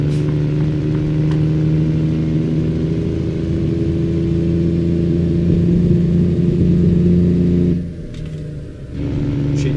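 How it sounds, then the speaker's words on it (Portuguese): A truck engine in Euro Truck Simulator 2 drones steadily as it accelerates, a loud continuous rumble with a brief dip near the end before picking back up. "Aí que eu vou acelerar aqui, carro."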